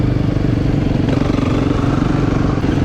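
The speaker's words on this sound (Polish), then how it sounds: "trzeba korzystać i sobie popyrkać tymi komarami, skuterami" Small dirt bikes and scooters, including a KTM EXC 250-F, run nearby with a steady, loud mid-pitched engine drone and light mechanical clatter, holding an even level without voices.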